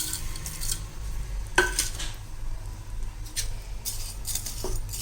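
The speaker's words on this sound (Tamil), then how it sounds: "இதை நல்லா கிளறிக்கணும்." A utensil stirs vermicelli in a pot of boiling water for semiya biryani, giving a few sharp metallic clinks against the pot over a soft, steady bubbling bed.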